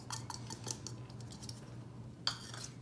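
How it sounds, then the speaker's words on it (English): Metal utensils clink lightly against a bowl as custard powder goes into an egg mixture for a Guyanese pine slice, scattered soft taps and scrapes at moderate distance over a faint hum, followed by one sharper clink. "I'm gonna take my custard powder and I'm gonna add it to my egg mixture"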